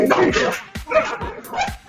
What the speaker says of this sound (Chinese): 他俩还打得激烈呢，团团去拉也拉不开。